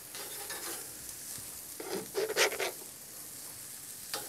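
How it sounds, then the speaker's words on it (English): Turkey burger patties hitting a grill heated to about 450 degrees, a soft steady sizzle with a few louder scraping bursts as they are placed and handled. "we're going to get this started by throwing these patties on the grill"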